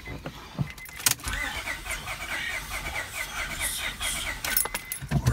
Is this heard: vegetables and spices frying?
no